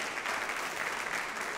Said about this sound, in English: You should give yourselves a round of applause for having the courage to make this change.